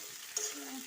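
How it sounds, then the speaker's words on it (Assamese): Broiler chicken meat frying in a pan is stirred, a close steady sizzle with brief scraping stir noises. "মই লৰাই দিছোঁ।"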